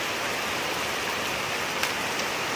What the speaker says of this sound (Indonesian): Dan sekarang pengerjaan terpaksa terhenti karena hujan datang